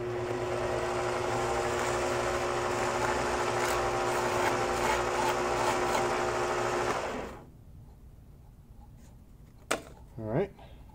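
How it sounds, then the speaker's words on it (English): Steady whirring hum of a mini lathe spinning a metal part while sandpaper is held against it, continuous and fairly loud, then the motor winds down and stops, leaving quiet with a few faint knocks. "I think I'm gonna hit that with a little bit of sandpaper."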